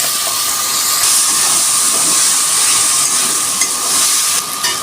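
Soybean chunks go into a pan of frying onion, garlic and ginger paste for a prawn, paneer and soybean biryani, giving a loud, dense, continuous hiss and sizzle with faint stirring.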